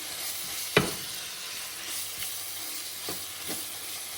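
Spiced lamb with black pepper and tomato puree sizzles in a pan on a wood-burning stove, a soft steady hiss close by, broken by one sharp clink early on and a few faint stirring scrapes.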